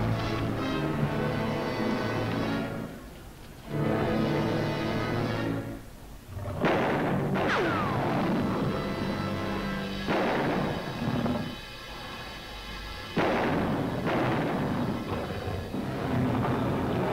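Revolver shots in a dramatized reconstruction, heard as several loud, sharp bursts spaced a few seconds apart over sustained dramatic music.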